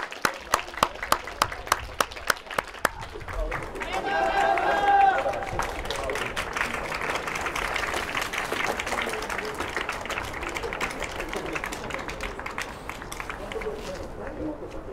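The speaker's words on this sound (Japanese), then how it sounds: "両チームにぜひ盛大な拍手をお願い申し上げます。" Prolonged applause from the crowd for both university American football teams, Kanazawa University Evergreen and Fukui Prefectural University Wilders, after the deciding final game: dense steady clapping that swells at the start and holds under a loud announcer's voice throughout.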